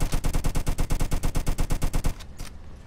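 Rapid automatic gunfire in a Roblox game, a steady burst of about twenty evenly spaced loud shots lasting two seconds, then stopping abruptly with a couple of faint clicks and low background noise afterward.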